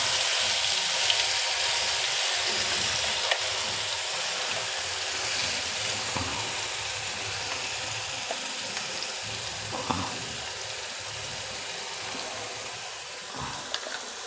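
Red chilli chutney with cumin fries in hot ghee for a Rajasthani-style relish, giving a dense, continuous sizzle with occasional light stirring clicks, close and steady throughout.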